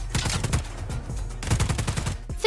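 Enemy soldiers firing at the player in Just Cause 4, sounding as a rapid burst of automatic gunfire, a run of sharp shots, then a brief pause and a second volley.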